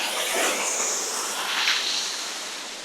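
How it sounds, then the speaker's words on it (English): A waterfall in the Slovak Paradise gorge gives a continuous broad hiss of rushing water, steady and fairly close with no speech. "And right now, the first waterfall."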